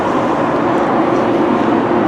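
A train at Telford Central station, heard as a brief, steady broadband roar of rolling stock, loud and close with no pauses.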